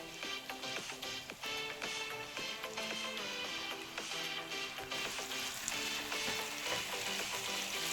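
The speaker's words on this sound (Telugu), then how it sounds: "ఇలా ఒకసారి బాగా మిక్స్ చేసి ఫ్రై చేసుకోవాలి." Chopped onion, curry leaves and coriander frying in a pan for bun dosa give a steady, soft sizzle that runs throughout, partly under background music.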